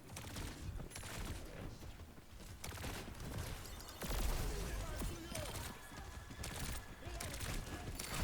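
Rapid gunfire in a shooter video game, dense crackling volleys running almost nonstop over a loud, busy background.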